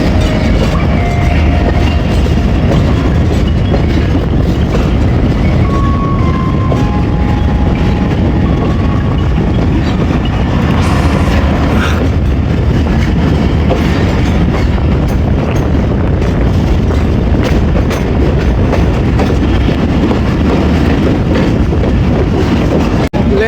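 The 38 DN Baba Fareed Express runs on a branch line out of Lahore past Kasur Junction, giving a loud, steady rumble with rhythmic clickety-clack of wheels over rail joints throughout.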